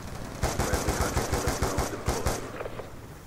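A 5.7 pistol in Call of Duty Black Ops 2 fires a rapid string of about a dozen sharp, evenly spaced shots. The shots are close and moderately loud, then trail off into softer scattered clatter.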